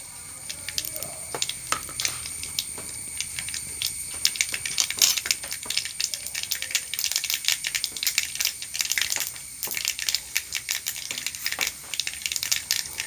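Mustard and fenugreek seeds crackle and spit in hot oil in a home kitchen, a steady stream of sharp, dense pops and sizzling hiss lasting throughout, fairly close and with no talking.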